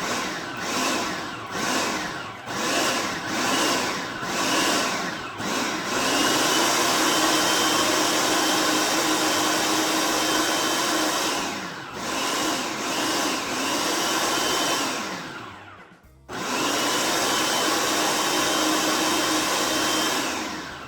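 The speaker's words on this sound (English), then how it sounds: "Yep, blend to desired consistency, so puree. You might need to pulse a little bit." A blender purees basil pesto with a loud, close motor roar, cut into several short pulses at first, then a long sustained run, a brief stop and a final burst.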